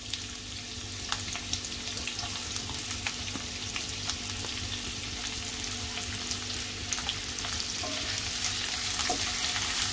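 Sliced onion frying in hot oil in a pan, a steady, dense sizzle running throughout with faint scattered ticks of quick stirring, no voices.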